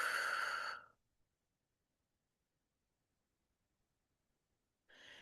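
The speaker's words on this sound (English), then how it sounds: "Deep breath in. Hold it. Slowly exhale." A slow, breathy exhale after a deep held breath during a meditation, a soft airy rush at the start fading into near silence, then a second breath rising at the end.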